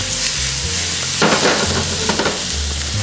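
Chicken gizzards frying in a pan with garlic and onions give a loud, continuous close sizzle, with a burst of stirring clatter midway and scattered spatula scrapes after, no one talking.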